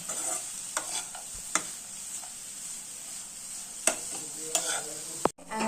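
Beaten rice (aval) roasting in ghee in a pan crackles with a soft continuous sizzle, broken by a handful of sharp spatula scrapes and taps as it is stirred and mixed.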